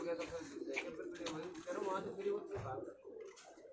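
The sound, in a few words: pigeons cooing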